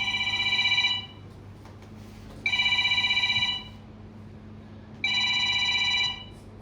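A telephone rings in three bright electronic bursts of about a second each, separated by pauses, loud and near over a low steady hum, with no talk.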